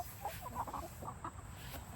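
Soft, irregular clucking from a few chickens close by on a Kentucky farm, with short murmuring calls over a steady low background rumble.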